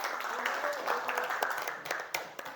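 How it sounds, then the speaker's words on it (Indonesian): Classroom applause for a student group during an open-class lesson, a short burst of clapping from many hands with some voices mixed in, fairly quiet and steady before thinning out toward the end. "tepuk tangan untuk kelompok 1"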